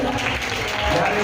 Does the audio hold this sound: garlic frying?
no